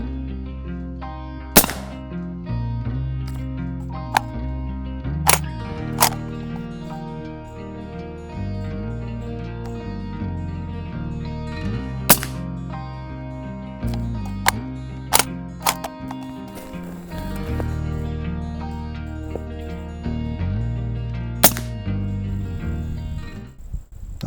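A suppressed bolt-action AR15 chambered in 300 Blackout fires about seven sharp, muted cracks, spaced irregularly over a steady musical background.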